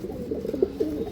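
Pigeons sold as high-quality birds give soft, low cooing calls, several pulsing coos in quick succession, close and steady with no voices.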